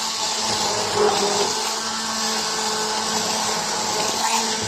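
A blender purees a hot broccoli and potato soup, a steady loud whirring drone with a liquid churn that holds constant, close up, with no voices over it.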